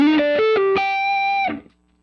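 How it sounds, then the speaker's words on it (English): An electric guitar played through a Line 6 Helix with an overdriven tone and compression in front sounds a short lead phrase of a few picked notes, the last held and sustained before stopping abruptly. "an overdriven tone with some compression in front"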